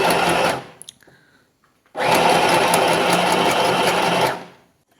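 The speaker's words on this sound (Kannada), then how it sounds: "ಈಗ ಆ ಕಡೆ ಈ ಕಡೆ ಸ್ಟಿಚ್ ಆಗೋದು ಕಾಣ್ತಾ ಇರಬಹುದು" Automatic electric stitching machine sewing a zigzag stitch, a loud close mechanical whir that runs briefly, stops with a few small clicks, then starts again and runs steadily for about two seconds before winding down.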